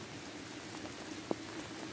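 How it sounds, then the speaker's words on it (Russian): Heavy rain falls on a flooded garden, a dense, even hiss of water with one sharp drop or splash standing out briefly, no voices. "льет дождь"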